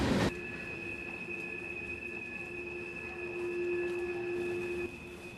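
A train rolls past on rails in Montgomery, Alabama, a steady grinding rumble with sustained high wheel squeal tones, fairly distant and continuous without voices.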